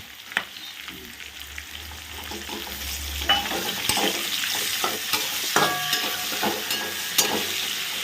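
Chopped onion frying in a pan for a quick prawn dish, with steady close sizzling and intermittent scraping and clinking as it is stirred.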